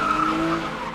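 An Aston Martin DB9 skids through a film stunt, its tires letting out a loud sustained squeal with a steady pitched whine for just under a second, no voices.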